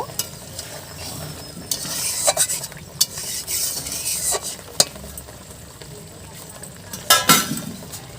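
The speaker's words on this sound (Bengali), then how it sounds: "একটু হালকা নেড়ে দেব" Vegetarian ash gourd curry with sugar is stirred in a large wok, bringing repeated spatula scrapes and metallic clinks over a low sizzle, close and fairly loud.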